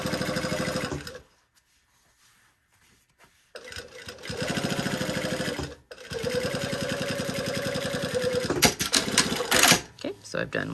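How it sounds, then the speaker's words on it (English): A sewing machine top-stitches the seams of a leather bag in long steady bursts of rapid needle clatter, stopping for a silent pause and then running again, close and loud, with no talk over it. "This does go through quite a bit of thread when you are top stitching all of the seams"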